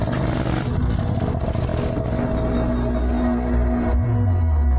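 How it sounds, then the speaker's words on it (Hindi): A motorcycle engine idles roughly, then revs up with a rising whine near the end, loud and close with no voices. "अभी बाइक स्टार्ट कर।"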